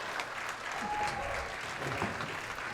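A bowling-match crowd at a televised Beat The Champ event cheers and applauds in a steady, dense wash of clapping and voices that holds at an even level for the whole stretch.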